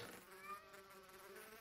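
A bee in a Minecraft modpack game buzzes close by with a faint, steady, high drone that holds for the whole moment, heard alone without talking.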